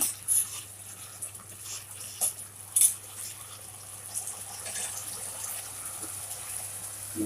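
Tap water runs and splashes as fish is washed with salt, a soft steady stream broken by a few louder splashes and clinks.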